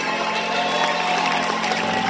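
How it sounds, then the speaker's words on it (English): A church congregation at a Holy Convocation in Memphis claps steadily in a dense, even wash of applause, fairly loud and sustained with no pauses. "I need to hear more claps than that now."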